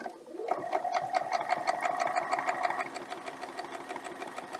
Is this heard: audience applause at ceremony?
no